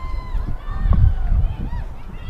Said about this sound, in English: the crowd not as quiet as it was before, Russ. I think the home side's crowd is sensing a victory here, and they've turned up the volume a little bit